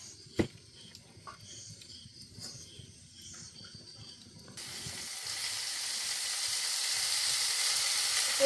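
Quiet kitchen sounds and a faint knock, then a steady hiss of frying swells up and continues, growing slightly louder.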